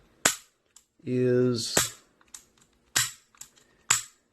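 Dry-fired revolver, several sharp metallic clicks of the hammer falling on an empty chamber with a brief ratcheting double action trigger pull between them, close and isolated, with a short spoken word.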